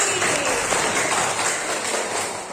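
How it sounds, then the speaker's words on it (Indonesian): Classroom audience clapping together during a lesson on the Earth's layers, a dense, continuous burst of applause that stays even and fairly loud throughout, with a faint voice underneath. "Tepuk tangan dulu sekali."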